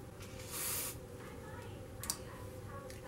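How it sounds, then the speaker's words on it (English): A short spray burst hisses once on upholstery fabric for a T cushion, followed by faint handling noises and a brief sharp click in a quiet room. "I'm going to spray this"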